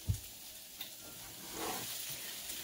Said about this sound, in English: And then here I got the steaks going.